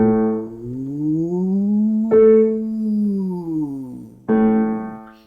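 A singer's voice imitates a siren with smooth sung glissandos, sweeping up and down in pitch in a steady, moderate tone. Three separate glides follow one another, each starting freshly after a short break, with no other sound around them.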